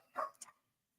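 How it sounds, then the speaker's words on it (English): Dogs barking at home, two quick sharp barks in close succession, fairly faint and alone, then silence. "And the dogs are going crazy."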